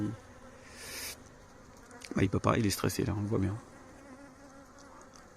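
A flying insect trapped at a beehive apiary buzzes steadily and loudly, close up, while a person speaks briefly over it partway through.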